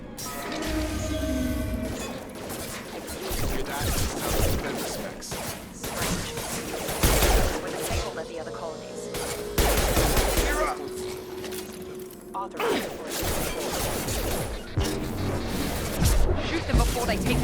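Gunfire in the video game Mass Effect 2, repeated loud shots and impacts in irregular bursts mixed with crashes and whooshes, close and dense throughout, with voices over the action.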